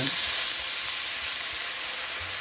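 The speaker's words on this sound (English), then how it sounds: "We're just taking a bit of that red wine, and we're going to deglaze the pan." Red wine hits a hot pan of beef burgundy to deglaze it, giving a continuous bright sizzling hiss that stays loud and steady throughout, with no talking.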